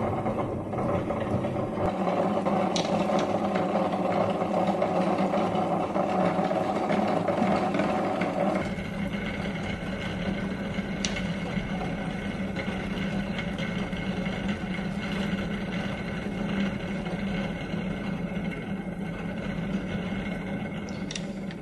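Fishing line being wound onto a baitcaster reel, a steady whirring spin with mechanical buzz that changes tone partway through and carries on evenly, close and moderately loud.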